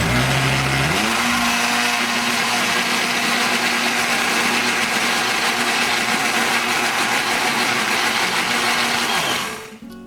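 A blender whirs loudly and steadily, mixing banana pancake batter, then cuts off near the end.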